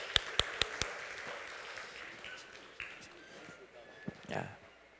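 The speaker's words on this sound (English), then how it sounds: "let's give an amazing round of applause" A few sharp claps open a round of audience applause for a youth leader at a youth leadership program in Jeddah. The clapping then thins into a softer, diffuse crowd patter, with a couple of late isolated claps.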